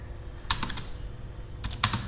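Keys on a computer keyboard are tapped in two short clusters of quick clicks, close and distinct over a faint background hum.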